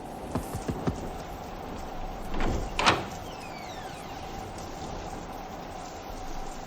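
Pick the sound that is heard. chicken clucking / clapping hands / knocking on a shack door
knocking on a shack door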